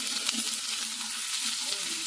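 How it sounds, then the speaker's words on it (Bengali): Ginger and garlic frying in a pan for a Bengali dal and egg chorchori, a loud continuous sizzle close up, steady throughout with no talk. "একটু ভেজে নেব।"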